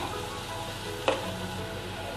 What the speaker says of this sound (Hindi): अनियंस डाल देंगे और हम इसे अच्छे से मिक्स करके 1 मिनट फ्राई करेंगे।